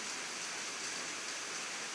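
Steady rain falling through much of an afternoon in the Philippines, a dense continuous hiss with no breaks, even and moderately loud throughout, with no voices.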